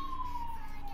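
A police or ambulance siren sounds outside in the video game Garry's Mod, a single steady wailing tone that glides slowly downward, fairly faint, over a low background hum for about a second.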